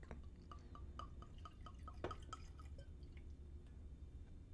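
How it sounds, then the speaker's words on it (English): Hercules Mulligan Rum & Rye whiskey is poured from the bottle into a glass, heard as very quiet, close trickling with a quick run of small splashy drips that gradually thin out. "I'm going to pour more just because"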